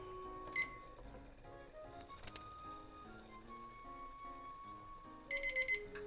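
A kitchen timer set while steaming shumai gives a run of short electronic beeps and tones at a quiet level, with a brief cluster of louder rapid beeps near the end and faint kitchen clatter in between.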